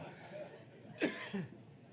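A single short cough from a person, close and soft, followed by a faint breathy sound in an otherwise quiet room.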